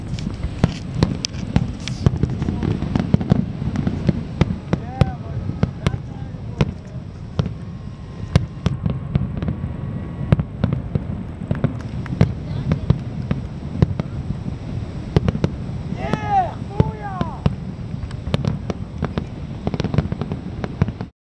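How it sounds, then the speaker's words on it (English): Canada Day fireworks at Niagara Falls, with a long stream of distant crackling pops and sharp bursts against steady wind rumble on the microphone, plus a few faint whistles. "Fireworks in the background."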